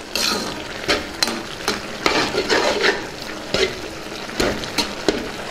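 Spring onion and chana dal curry with chilli powder, coriander powder and garam masala stirred in a pan, a steady scraping and clinking of the spoon against metal over a soft sizzle, with repeated rhythmic strokes close up.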